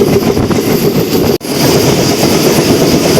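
Steady loud rumble and rattle of a MEMU train running between Rajahmundry and Bhimavaram, heard from on board, with a momentary gap before the roar resumes unchanged.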